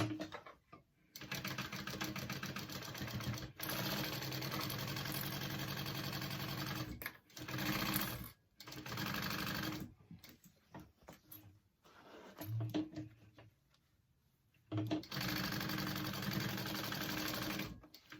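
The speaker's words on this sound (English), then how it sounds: "And sew that onto your zipper." A sewing machine stitches fabric onto a zipper with a 1/4 inch seam, running in long steady bursts separated by brief pauses, close and fairly loud with no talking.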